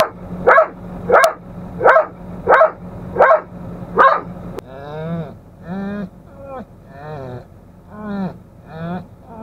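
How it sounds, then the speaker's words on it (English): A hunting dog barks about six times in a steady rhythm, loud and close, then howls and bays in drawn-out, wavering cries. "Can you stop barking, buddy?"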